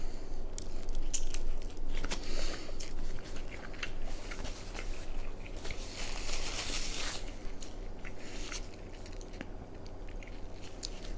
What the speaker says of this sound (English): so we're going to go in on the first bite here.